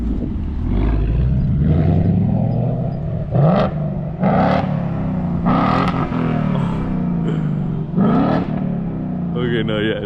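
New car engine revving as it drives off, repeated rising revs in several bursts over a steady engine drone, close and loud, with talk mixed in.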